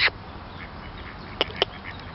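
Ducks at a pond quacking close by, one loud quack at the start and two more in quick succession later, over steady outdoor background noise.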